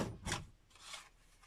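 A card slides into a Stampin' Up! punch with two short, soft scraping rubs, close and quiet.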